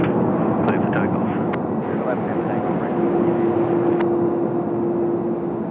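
An All Nippon airliner takes off from runway 34 left at Sydney Airport, a loud broad jet roar that holds steady with a faint whine across it, and a voice comes over the roar.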